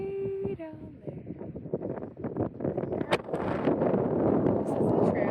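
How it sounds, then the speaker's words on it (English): Strong gusting wind on a mountain ridge in Torres del Paine, Patagonia, buffets the microphone in a steady, roaring rush, with occasional louder bursts and a brief tonal whine near the start. "Really windy as soon as we got on this ridge."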